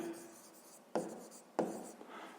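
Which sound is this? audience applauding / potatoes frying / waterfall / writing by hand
writing by hand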